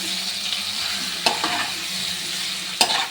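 Spices stirred in hot oil in a pan for an olive pickle, a constant close sizzle broken by two sharp scraping knocks of the spoon, with no talking.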